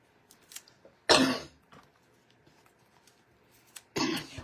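A woman coughs twice, each a loud, harsh burst close to the microphone separated by a few seconds of quiet room tone and faint rustling.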